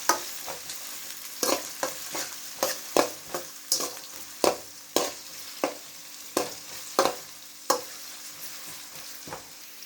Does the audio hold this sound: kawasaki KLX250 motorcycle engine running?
no